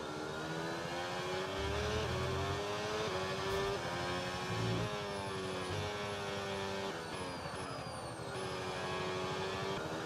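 F1 25 race car engine in the video game, a steady high-pitched whine whose pitch shifts up and down with gear changes and downshifts, running continuously at moderate level.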